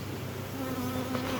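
Honey bees buzzing during varroa mite testing: a steady, close, continuous hum from a mass of bees, with a faint tonal drone underneath.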